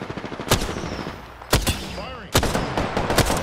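Loud, close gunfire in Apex Legends: sharp single shots and rapid bursts in several clusters, with brief gaps and distant shots in between.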